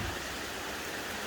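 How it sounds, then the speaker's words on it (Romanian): Heavy cyclone rain pours steadily over a Maldives beach resort, a dense, even hiss of water close by with no talk. "Acum să vedem cum plecăm noi pe ploaia asta."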